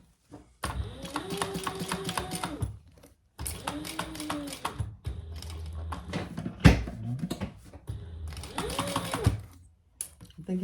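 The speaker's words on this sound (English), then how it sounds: "let's just give that a quick top stitch" A home sewing machine top stitching a fabric hip bag, running in several steady humming, rapid-ticking bursts separated by short pauses and handling noises, with a voice speaking briefly between runs.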